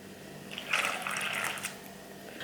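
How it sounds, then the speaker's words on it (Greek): Water is poured into a well in flour for Greek lagana flatbread dough, making a soft trickling splash for about a second in a quiet kitchen. "Θα φτιάξουμε ένα λάκκο και θα προσθέσουμε το μισό νερό."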